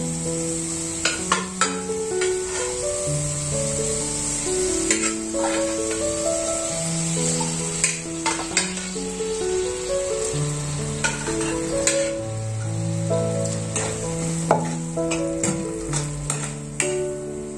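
Cooked chickpeas hit hot spiced oil in a pan and sizzle steadily, with frying crackle running throughout, occasional sharp ticks and clinks of a spoon stirring, while melodic background music plays along.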